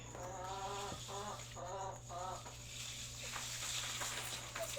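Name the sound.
chickens clucking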